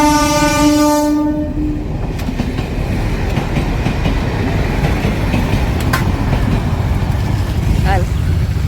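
A train at a closed level crossing: a loud, sustained horn blast opens, then the rumbling, rattling clatter of the passing train fills the rest, close by and continuous, with a few sharp metallic clanks.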